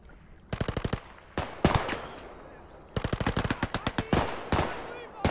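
Rapid machine gun bursts in the World War II video game Gates of Hell: Ostfront: two loud, close rattling volleys, each followed by a few heavier single shots.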